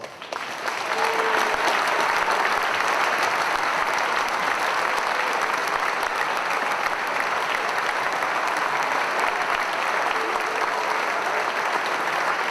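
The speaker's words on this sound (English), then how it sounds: "We can have all the honorees to stand up one more time and give them a round of applause." Sustained applause from a large seated audience honoring inductees at an athletic hall of fame ceremony in a school hall, a dense, even wash of many hands clapping for over ten seconds without speech.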